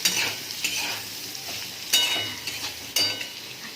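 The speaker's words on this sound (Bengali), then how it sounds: "এইভাবে কিছুক্ষণ নাড়তে থাকবো আঁচ কমিয়ে।" Potatoes frying in a pan over low heat for aloo posto, stirred with a utensil in three or four distinct scraping strokes over a soft steady sizzle, close and moderately loud.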